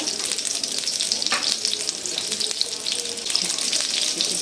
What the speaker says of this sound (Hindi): इसको इस तरह हिला के जो है इसको सबको फ्राई कर लूँगी।